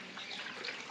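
Water runs steadily from a tap while chicken is washed in a pot, a soft continuous splashing trickle heard up close with no talk.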